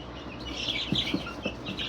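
Young chickens and a rooster on a homestead give a few soft, brief clucks and calls close by over a quiet background.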